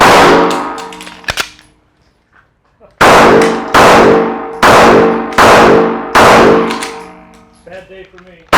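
Pistol shots at an outdoor Rangemaster bullseye test, several loud sharp reports close by: a few early shots, a pause, then five evenly spaced cracks in quick succession, each ringing out briefly.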